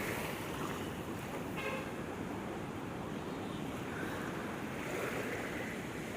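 Waves washing onto the shore of Manila Bay, a steady faint wash of surf mixed with wind rumble on the microphone, continuous and distant, with no talking.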